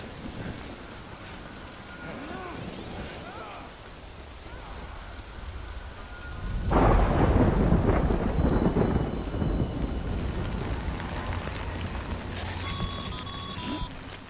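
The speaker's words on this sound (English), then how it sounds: "Good thing it was raining." Steady rainfall in the video game Death Stranding, with a heavy rumble of thunder rolling in partway through, then continuing rain hiss; no voices.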